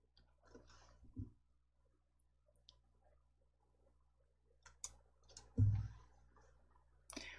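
A computer mouse gives a handful of sparse, quiet clicks with short gaps between them, close by in a near-silent room with no one speaking.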